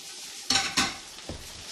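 Pelmeni dumplings frying in a pan, a soft background sizzle broken by two close scraping stirs in quick succession and a fainter third one shortly after.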